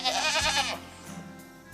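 Goats bleat on a Madison County blackberry farm. One loud, wavering bleat sounds close by, then a quieter stretch of low farmyard background follows.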